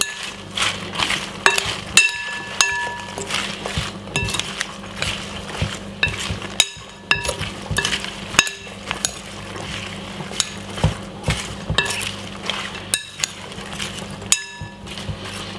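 Spinach salad with dry chili being stirred in a bowl, with repeated clinks and scrapes of utensils against the dish in a steady, busy rhythm, close and fairly loud, with no talking.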